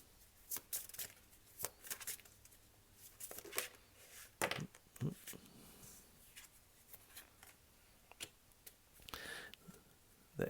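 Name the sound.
shuffling a Wisdom of the Buddha oracle card deck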